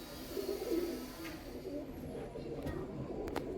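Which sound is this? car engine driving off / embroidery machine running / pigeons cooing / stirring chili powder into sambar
pigeons cooing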